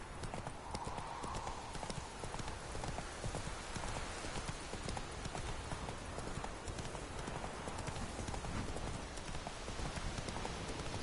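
Horse hooves clip-clopping steadily along a road in the video game Witcher 3, a continuous rhythmic patter of hoofbeats with faint rain-like ambience and occasional game sounds underneath.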